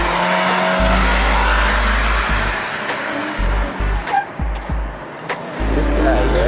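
A stock Mazda Miata NC laps a race track, its engine note swelling and fading in bursts with brief tire noise, heard at moderate distance against a steady background of track noise.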